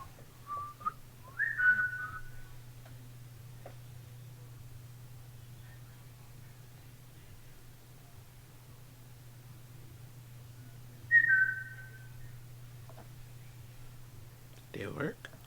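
A person whistles short, clear notes inside an old armory: a brief phrase near the start and another a little later, each standing alone over a steady low electrical hum, with faint scattered sounds between them.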